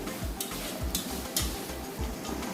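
Sliced onions for Kozhikodan chicken biryani fry in a pan, a steady close sizzle with rhythmic scraping stirs every half second or so, no talking.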